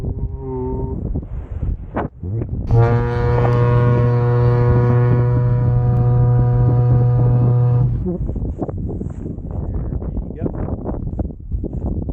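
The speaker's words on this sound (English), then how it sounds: "Foghorn. Thing that goes hee-hoo." A deep, steady foghorn blast in Scotland holds for about five seconds, loud and tonal, with wind rumble and scattered talk before and after.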